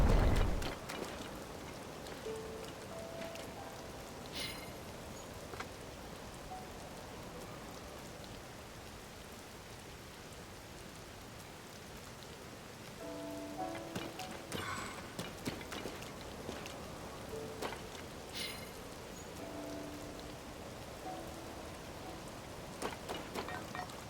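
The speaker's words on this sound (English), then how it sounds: "Rain is the worst." Rain falls steadily in Zelda: Tears of the Kingdom, a constant wash of patter throughout with occasional brief in-game tones and clatters over it, at a moderate level and with no talking.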